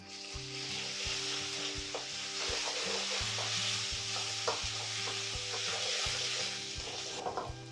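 Ginger garlic paste fries with curry leaves in a pan, sizzling steadily while a spoon stirs and scrapes now and then, close and continuous, with background music playing underneath.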